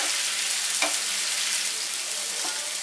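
Chopped celery cooking in a pan for a creamy tomato soup gives a steady, even sizzle and frying hiss, with a couple of faint stirring scrapes and no talking.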